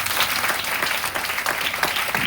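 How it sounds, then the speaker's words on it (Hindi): Steady audience applause fills a seminar hall at a DXN business training session, dense continuous clapping from a large crowd, loud and close throughout with no talk over it. "जोरदार ताली बजा लीजिए।"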